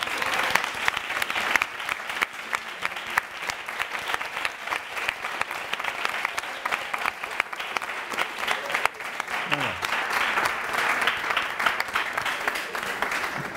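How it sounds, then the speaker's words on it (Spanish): Audience applause at a Spanish science outreach evening for European Researchers' Night, steady dense clapping sustained throughout, fairly close and even in level, with a few voices faintly mixed in beneath. "Un aplauso para Begoña."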